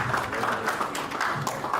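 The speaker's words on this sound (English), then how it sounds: "Please, a round of applause." Audience applause at a stakeholder policy dialogue on blockchain implementation, a steady wash of many hands clapping together, sustained and fairly loud with no voices over it.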